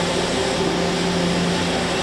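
A Mazak 4-axis machining center spindle runs at a steady whirring hum with a faint tonal whine, continuous and close by over a couple of seconds, alone with no talk.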